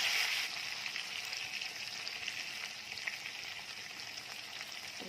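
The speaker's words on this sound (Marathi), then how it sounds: "साईड बदलून पुन्हा हे छान 2 मिनिटांसाठी अशीच मस्त खमंग भाजून घ्यायची आहे." Capsicum peppers roast in a pan with a faint, continuous crackling sizzle that stays even throughout, with no voices.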